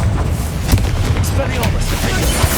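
Booming blasts from the Confringo fire spell in Hogwarts Legacy go off, several sharp explosions spaced through a dense background of game noise.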